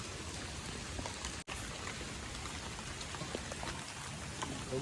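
Steady rain pours down in Junagadh, a dense even patter filling the whole stretch with no voices, broken only by a split-second dropout.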